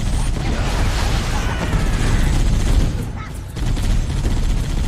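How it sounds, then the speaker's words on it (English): Dense, continuous machine gun fire in Halo, rapid bursts filling the mix with heavy low rumble, briefly dipping before resuming. "Oh, there's a machine gun and a main cannon,"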